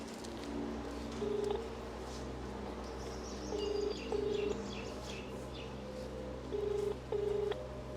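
A telephone is dialed for a call, giving short electronic keypad beeps in pairs over a steady background hum, with faint birdsong in the distance.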